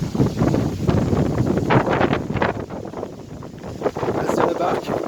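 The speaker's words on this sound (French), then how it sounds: "Il y a du vent, il fait froid" Strong wind buffets the microphone on a cold mountain pass near the Col du Pré de la Dame in Lozère, with loud, gusty rumbling that swells and eases in uneven waves.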